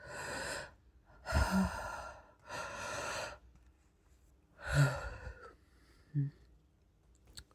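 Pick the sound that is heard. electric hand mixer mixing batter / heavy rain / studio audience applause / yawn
yawn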